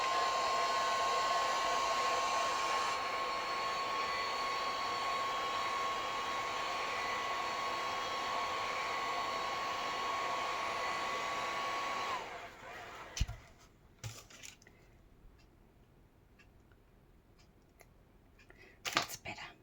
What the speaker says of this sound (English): Yeah, I'll use the heat gun. I'll just put it on a low blow and